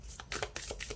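Tarot cards being shuffled and handled during a reading, a quick run of crisp papery riffles and slaps close by, with no one talking.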